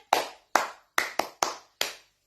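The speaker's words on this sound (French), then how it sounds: "Tout le monde applaudissez" Six separate hand claps ring out one by one at an uneven pace from a person or small group in a talk-show setting, each sharp and close with a short decay and silence between them.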